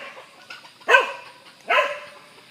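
A dog barking in a backyard garden where bantam chickens roam, two loud separate barks about a second apart over a quiet background.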